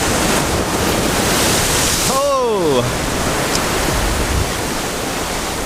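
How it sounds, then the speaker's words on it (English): Ocean waves crash and surge steadily against a rocky Hawaii shoreline, a loud continuous roar of surf filling the whole stretch, with a brief voice exclaiming partway through. "I don't have to wait for these waves to crash."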